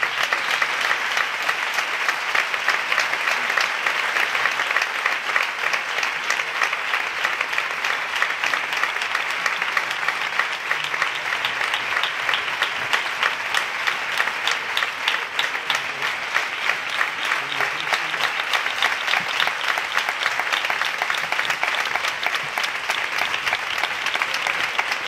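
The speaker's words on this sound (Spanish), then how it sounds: "muchísimas gracias a todos ustedes y un fuerte aplauso" A flamenco tribute audience applauds steadily, a dense, even roar of clapping that holds at full strength throughout without pause.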